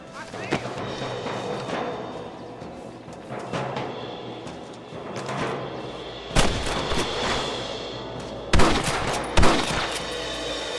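Gunfire from Red Dead Redemption on Xbox 360, with sharp loud shots bursting out in clusters over a busy background of game ambience and voices.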